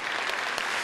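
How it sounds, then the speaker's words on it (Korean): A brief burst of steady clapping from a symphony orchestra concert crowd, many hands at once, full and even for under a second. "더 큰 박수 한번 부탁드리겠습니다."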